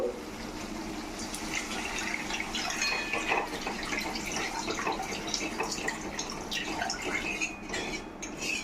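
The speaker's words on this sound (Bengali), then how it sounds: "এখন এর মধ্যে জল দিয়ে দিব।" Water added to a pan of fish curry on the stove makes a steady, close sizzle and splash that carries on for several seconds without any voices.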